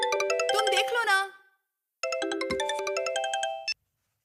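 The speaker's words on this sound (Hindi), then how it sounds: "तुम्हारा फोन है।" Mobile phone ringtone chiming indoors, a bright melodic tune playing loud and close in two bursts with a brief gap between them and no talk over it.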